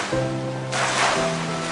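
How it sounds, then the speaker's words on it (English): Water feature fountain at the Burj Al Arab hotel, a steady rushing wash of falling water that swells midway, under a sustained tonal music bed. "And the water features here are an engineering feat in their own right."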